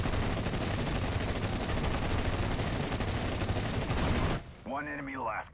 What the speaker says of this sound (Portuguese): É muito tiro, né, cara?